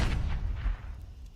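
A grenade explosion in a Counter-Strike match, a loud booming blast with crackling noise that rumbles and fades within about a second, heard without talk.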